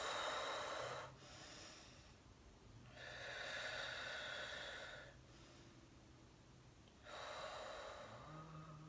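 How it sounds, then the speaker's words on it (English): Slow, deep breaths during a Kundalini yoga session, with long airy inhales and exhales alternating every couple of seconds, close and unaccompanied by talk. "Long deep breathing in and out."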